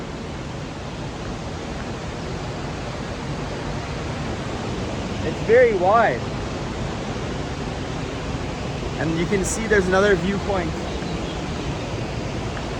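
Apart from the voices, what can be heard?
fast moving river water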